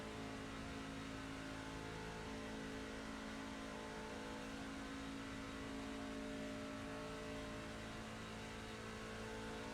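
Race car engine held at full throttle in the iRacing simulator: a continuous, dense, droning engine tone with steady harmonics and no pauses, loud and unbroken throughout.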